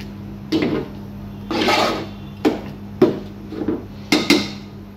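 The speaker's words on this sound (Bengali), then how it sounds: "একটু নেড়ে চেড়ে দিচ্ছি।" Dal with jute leaves is stirred in a pot, bursts of scraping and clattering of a spoon against the pot coming in several uneven strokes over a low steady hum.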